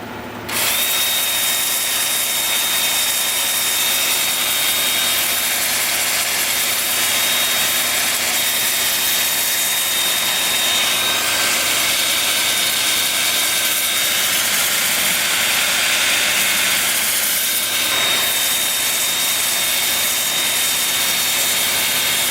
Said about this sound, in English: I'm going to start sanding at 80 grit on my 2-inch disc.